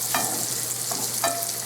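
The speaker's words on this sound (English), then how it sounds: "add the bacon to the skillet and cook until crisp" Bacon frying in a skillet, a loud, continuous close sizzle with a few faint scraping stirs on top.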